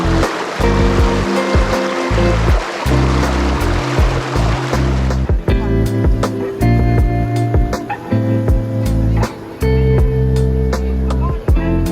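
Water flows strongly over the travertine calcium pools at Pamukkale in Turkey, a steady rushing wash under prominent tonal, music-like sounds that persist throughout.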